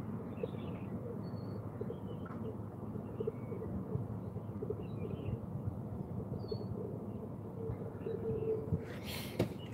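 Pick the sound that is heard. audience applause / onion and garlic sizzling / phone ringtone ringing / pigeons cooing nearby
pigeons cooing nearby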